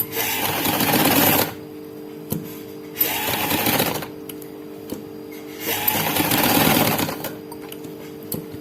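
A sewing machine stitches cloth in bursts, its rapid mechanical whir starting and stopping several times with short quiet gaps between runs, close and clear with no talking.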